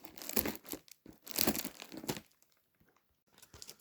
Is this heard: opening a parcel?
yes